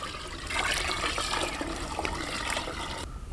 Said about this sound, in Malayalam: അതായത് 2-ാം പാല് നമുക്ക് ഇതിലേക്ക് ഒഴിച്ചു കൊടുക്കാം.